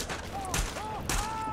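Sniper rifle fire in the video game The Division: two short booming shots about half a second apart, heard over a steady game-sound bed with faint tonal effects.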